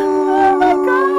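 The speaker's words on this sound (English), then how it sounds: "Can you get Theo to howl?" A dog gives a short, loud, tonal howl up close, a sustained wavering note lasting about a second.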